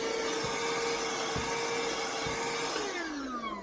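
A Hart 20V cordless 2.5-gallon shop vac runs steadily with a loud, close whining drone, broken by a few dull thumps, and its pitch falls as the motor starts spinning down at the end.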